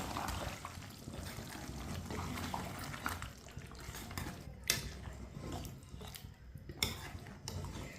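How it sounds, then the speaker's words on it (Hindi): A spoon stirs fresh yogurt in a bowl, giving soft clinks and scrapes against the bowl that come and go over a low background hum, with a few sharper taps near the end. "दही को मिक्स कर लेंगे।"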